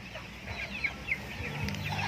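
Native free-range chickens and chicks in a coop, with soft clucks and a couple of high chick peeps over a low steady background hum.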